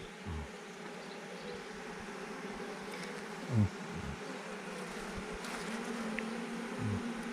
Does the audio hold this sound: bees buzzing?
yes